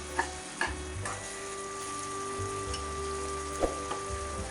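Paneer curry fries in a pan with a steady, gentle sizzle, while a utensil gives occasional soft clinks and scrapes as the curry is stirred.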